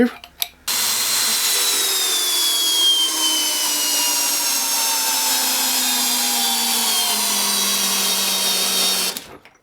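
A Skil XP DD1E3080 cordless drill drives a 350 mm lag screw into wood. A close, loud, continuous motor whine slowly drops in pitch as the load builds for about nine seconds, then cuts off.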